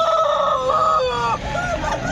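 A rooster at a poultry market in Nallapadu crows once, loud and close, in a long harmonic call that trails off into softer clucks.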